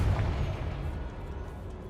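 A Confringo spell explosion in the video game Hogwarts Legacy lands as a single dull, booming blast at the start, its low rumble slowly fading over the next two seconds.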